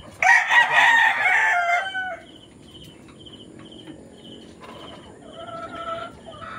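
A rooster crows loudly nearby, followed by softer clucking and chirping from chickens over a background of insect buzz.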